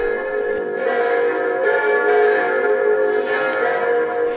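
Bells ring in a cathedral that has seven bells, the swinging bells hung in the west tower. The tones overlap in a sustained, resonant, fairly loud peal with no voices.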